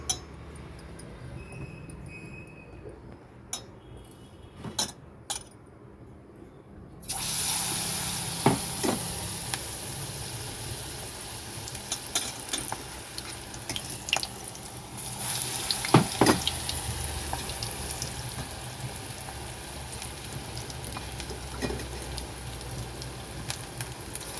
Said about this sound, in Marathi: आता मिरची आपण बेसन पिठात डुबून भजे सोडून घेऊ तेलात